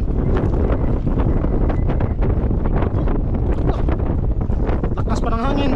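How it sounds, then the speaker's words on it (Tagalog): Strong, gusty wind buffets the microphone in a loud, continuous roar while fishing, with faint voices and a brief whistling tone near the end. "Lakas pa ng hangin, sinabayan pa ng lakas ng hangin"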